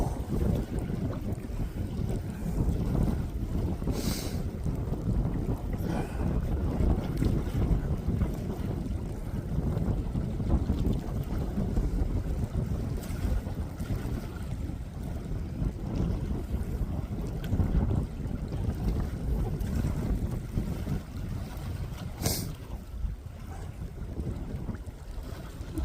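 Strong wind buffets the microphone on the Hudson River at Hudson, NY, on a 29-degree day. It roars as a constant, loud, rumbling rush, with faint water and boat noise beneath and no voices.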